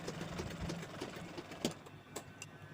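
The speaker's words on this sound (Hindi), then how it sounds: "अब साइड में इस तरह से हमें सिलाई लगा देनी है" Sewing machine stitching along the sides of a cloth handbag made from an old kurti, giving a short, steady, close run of rapid stitching with a few faint clicks.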